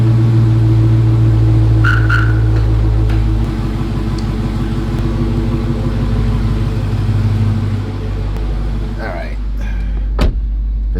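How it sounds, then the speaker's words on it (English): A remote-started Dodge Hellcat engine idles with a steady low rumble throughout, joined by brief clicks and a soft voice near the end. "You can use your red key to start the car"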